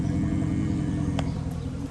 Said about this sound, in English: We got the hose on and the car is running.